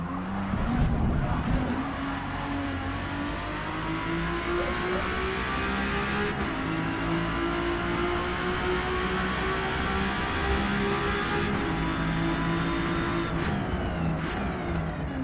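A race car in Forza Motorsport braking too hard and oversteering, its engine droning steadily with rising and falling pitch and tire squeal woven through, continuous and close with no talk.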